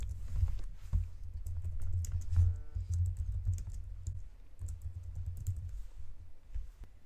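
Steady, rapid clicking of someone typing on a computer keyboard to enter a title into an Excel spreadsheet cell, close and continuous throughout with no voices.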